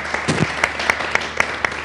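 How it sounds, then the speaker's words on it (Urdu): Audience at an Eid poetry recital applauding, dense continuous clapping with distinct sharp individual claps standing out, fairly loud and close. "میں آپ کی بھرپور تالیوں میں سخن کی دعوت دیتا ہوں جناب خالد شریف صاحب کو"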